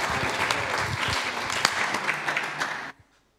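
A church congregation applauding and cheering for Jesus, with a dense, loud burst of clapping and crowd noise that carries on for about three seconds and then cuts off sharply into silence.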